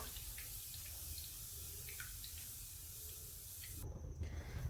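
Dal frying in hot oil for Diwali chivda gives a steady broadband sizzle and hiss with faint crackles throughout, growing slightly louder and rougher near the end.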